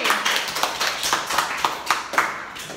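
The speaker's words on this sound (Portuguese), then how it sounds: "Palmas, gente!" Third-grade pupils in a Brazilian classroom clap in a loose, irregular patter of separate hand claps, close and moderately quiet, with no voices.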